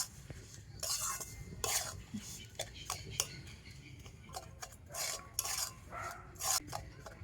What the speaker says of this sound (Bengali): তো লবণ দিয়ে আবার একটু ভালো করে মিশিয়ে নেব।